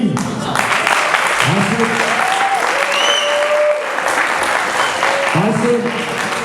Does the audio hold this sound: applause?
yes